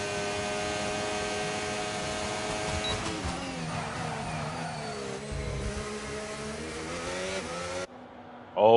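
Mercedes Formula 1 car engine in an F1 racing game at a Las Vegas qualifying session, a steady high-pitched whine holding pitch with slight shifts, continuous and loud before cutting off near the end.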